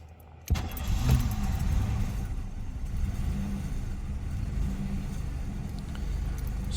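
An old project car's engine cranks and catches after a brief quiet moment, then settles into a loud, steady, rough low rumble that continues close by without talk.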